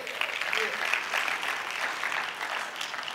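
An audience in a church-like gathering breaks into applause, with steady clapping from many hands. A voice speaks faintly beneath the clapping.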